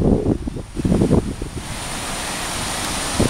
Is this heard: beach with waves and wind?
yes